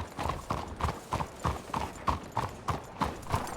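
Horse hooves clip-clopping at a steady walking rhythm in a Wild West video game, a dozen or so evenly spaced, moderately close thuds with no talk over them.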